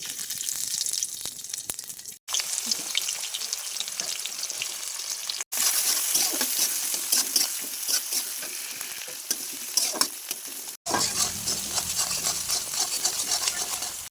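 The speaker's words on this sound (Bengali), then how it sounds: "আমি গোটা গরম মশলা দিয়ে দিচ্ছি" Whole garam masala sizzling in hot mustard oil in a pan, giving a loud, sustained crackling fry with stirring scrapes, interrupted by a few short silent cuts.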